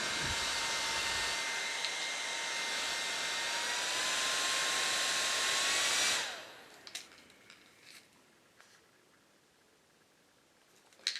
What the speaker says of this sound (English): So that's the EasyAcc portable handheld turbo fan